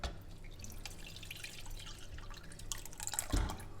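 Squeezed orange juice drips and trickles through a strainer into a bowl, a faint close-up patter of liquid with a slightly louder splash near the end.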